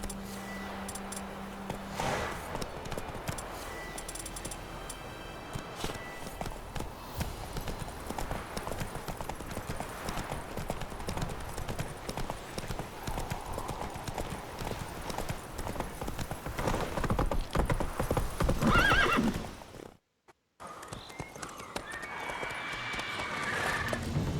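A horse gallops in The Witcher 3: Wild Hunt, steady rapid clip-clop hoofbeats continuing for most of the stretch with an occasional whinny, then a brief drop to silence before the hooves resume.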